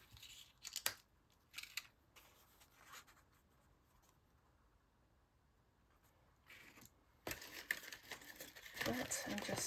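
Scissors snip through paper game cards at a craft table, a few close, crisp cuts in quick bursts separated by quieter handling, with louder rustling and paper noise toward the end.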